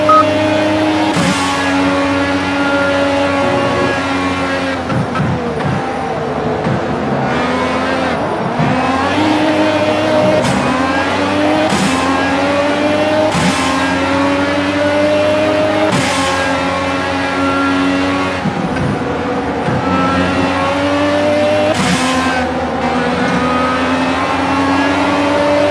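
A racing car engine in Project CARS screams through the Porsche curves, holding a continuous high-revving whine with rising tones as it accelerates and sharp dips at each gear shift, loud and close throughout.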